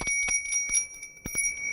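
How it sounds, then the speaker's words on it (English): A hand bell rung on a live markets trading stream, a quick series of bright clanging strikes with ringing tones that hang between hits, close and loud, no talking. "Proper ring of that bell."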